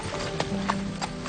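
A horse's hooves clip-clop in a faint, uneven few beats over quiet background, with occasional low rumbles and no voices present.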